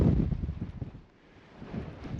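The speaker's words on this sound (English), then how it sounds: "That wind is insane though." Strong wind on a Cairngorms mountain buffets the microphone with a low, rumbling roar that surges, briefly eases midway, then builds again.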